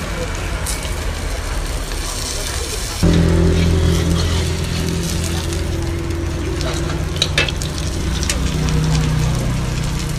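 Steady loud sizzling of bánh xèo (Vietnamese crepe) batter frying in a hot pan, starting abruptly a few seconds in, with kitchen clatter and faint voices in the background.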